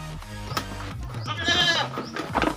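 Goats on a small family goat farm in Phanom Dong Rak, Surin, Thailand bleat close by, with one clear wavering cry over steady background noise.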